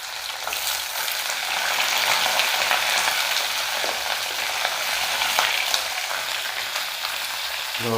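Pointed gourd pieces fry in hot oil with panch phoron, a bay leaf and a green chili, producing a dense, continuous sizzle with faint stirring clicks and no speech.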